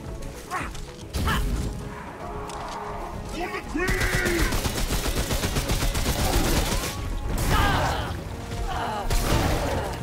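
Rapid machine-gun fire and crashing impacts from the Remnant: From the Ashes shooter as cowboy-hatted goblin gunmen attack, dense and continuous bursts near and loud, with a voice talking over parts of it.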